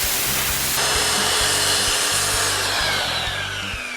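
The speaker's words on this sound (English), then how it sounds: "you can easily make your own track for any circular saw just using a piece of 1/4-inch plywood" Circular saw cutting plywood along a homemade plywood track, a loud continuous whining buzz with a grinding, rasping edge, steady for the whole stretch and easing slightly at the end.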